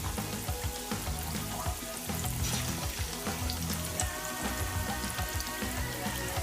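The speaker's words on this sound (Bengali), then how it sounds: "আমি একটা একটা করে সবগুলো তেলের মধ্যে দিয়ে দিচ্ছি এবং পেঁয়াজুটা ডুবো তেলেই ভাজা হয়।" Lentil and onion fritters (dal piyaju) deep frying in hot oil, giving a steady, dense crackling sizzle that stays loud and close throughout with no talking.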